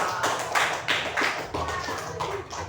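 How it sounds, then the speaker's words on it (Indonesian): Scattered hand clapping from a small class group, a few uneven bursts of claps that rise and fade over a couple of seconds. "Tepuk tangan untuk Mas Rizky."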